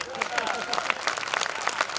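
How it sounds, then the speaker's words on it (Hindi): An audience at a spiritual gathering in Palitana, Gujarat breaks into applause, a dense patter of many hands clapping steadily throughout, with talk underneath. "तो जोरदार तालियां।"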